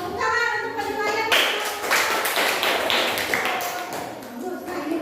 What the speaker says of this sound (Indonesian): Tepuk tangan untuk penilaian.